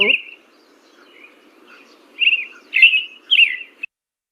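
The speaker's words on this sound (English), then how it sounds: "And this is the American robin." An American robin sings short, clear warbled phrases in a quick series, fairly close against a quiet background.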